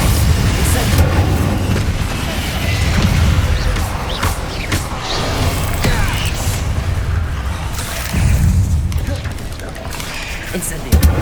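Confringo blasting spells going off in the Hogwarts Legacy video game, producing repeated deep booming explosions and crashing impacts amid continuous combat noise and a voice calling out spell names.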